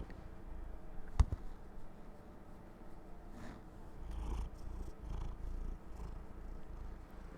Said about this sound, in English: He's purring.